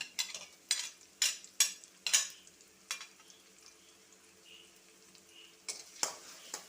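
Garlic frying in a pan with onion until brown for a Malabar tamarind curry, a soft sizzle under repeated sharp scrapes and stirs of a spoon against the pan, in clustered bursts with quieter frying between.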